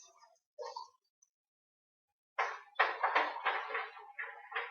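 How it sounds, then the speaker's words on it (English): Beef chunks dropped into a hot pan for searing: a few soft clinks and taps, then a sudden hissing sizzle that keeps crackling close and moderately loud. "All right, and into a pan it goes."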